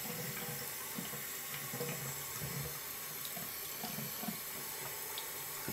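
Water runs from a bathroom sink faucet fitted with an attachment, a steady close splashing stream that stays quiet and continuous throughout.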